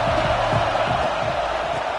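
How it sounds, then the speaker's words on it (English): Football stadium crowd roaring and cheering steadily throughout, a dense, loud wash of many voices with no clear breaks. "This crowd ready to make its presence known."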